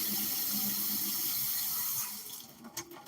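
Tap water pours steadily into a cup, measuring a third of a cup for breakfast batter; a loud, even rush for about two seconds that then cuts off, leaving quiet kitchen clatter.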